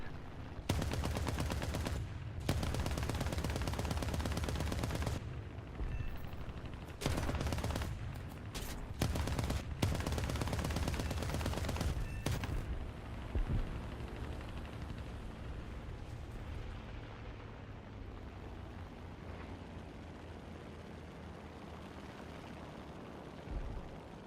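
Loud bursts of aircraft machine-gun fire in an air-combat video game, several long rattling volleys in the first half that stop abruptly, leaving steady engine drone.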